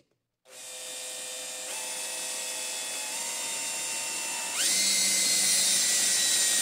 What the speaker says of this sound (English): So I'm first going to drill it with this Forstner bit, this 3/8 Forstner bit, which gives you a really nice clean hole